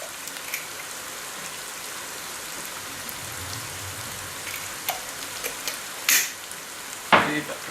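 Rice fries in a pan for meat-and-rice stuffed peppers as savory, salt, paprika and black pepper are stirred in. A steady close sizzle runs throughout, with a few sharp utensil scrapes near the end.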